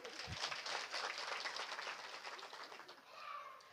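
Village audience at a women's haldi-kunku gathering in Pangri clapping steadily, a dense, fairly faint patter of many hands that continues for several seconds and thins near the end.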